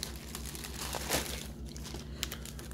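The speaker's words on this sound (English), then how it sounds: "I have the actual visor itself inside of a plastic bag. It's taped over here, so let's pull that out." A visor for day and night driving being pulled from a taped plastic bag, giving close crinkling and rustling with a sharper tearing crackle partway through, no talk.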